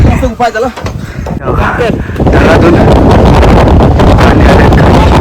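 Strong wind blows hard against the microphone at night on the Konkan Kada cliff at Harishchandragad, a loud continuous roar with rumbling gusts throughout.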